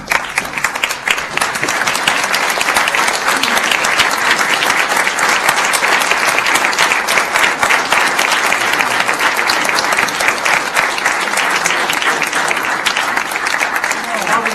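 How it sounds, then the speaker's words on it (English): A council meeting audience gives sustained applause and a standing ovation, dense loud clapping continuing steadily for about fifteen seconds with a few voices mixed in. "So I want us all to give a round of applause and a standing ovation to that great person behind that great man."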